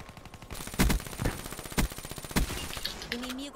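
Rapid automatic gunfire in the video game Call of Duty Black Ops 3, a fast continuous stream of shots punctuated by several heavier reports, with a brief voice near the end.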